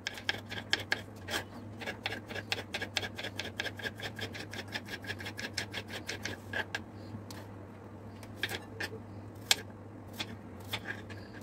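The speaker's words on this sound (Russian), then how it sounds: "Огурцы можно нарезать, как вам удобно, как хотите." Rapid, evenly spaced knife chops on a cutting board slicing cucumbers into strips, dozens in a quick run, then slower scattered cuts toward the end.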